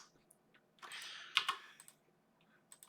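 Computer keyboard typing with a few mouse clicks during a graphic design session, quiet and close, with a short burst of rapid keystrokes in the middle and scattered single clicks around it.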